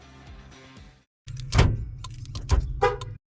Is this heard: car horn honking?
yes